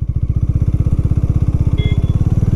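A 400cc motorcycle engine idles while the bike stands still, giving a close, steady, rapid thumping pulse with an even rhythm throughout and no talking.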